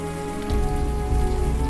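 Steady rain patters on a city street in the Unavowed game, a dense even hiss of drops that swells slightly louder after a moment and continues alone without any voices.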